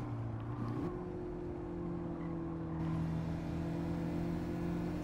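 A race car's engine drones steadily in Gran Turismo 7, a sustained tone that shifts pitch once early on and then holds, loud and close with no talk.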